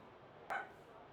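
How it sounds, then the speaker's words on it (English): A single short, faint bark from Dana's dog Artemis carries over a voice call, heard once against a quiet, low background hiss. "Dana, sort your dog out, please."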